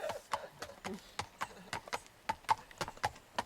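Horse hooves clip-clop steadily on a country path in the Lake District fells, a fairly close, even walking rhythm of sharp knocks with faint voices in the background.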